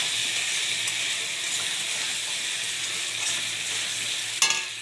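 Onion, potato and taro fry in a pan, giving a steady, close sizzling hiss that ends with a brief clatter of stirring.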